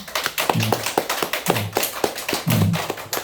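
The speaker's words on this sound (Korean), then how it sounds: "박수 한번 쳐야죠" Sparse clapping at a lecture on breathing technique: a few people clap in a loose, uneven rhythm of separate sharp claps, close by, with short low thuds mixed in, and the claps thin out after about three seconds.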